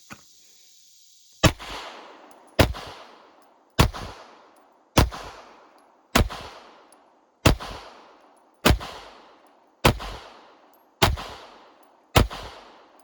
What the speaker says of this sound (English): I'm gonna take the 10 round mag and shoot it.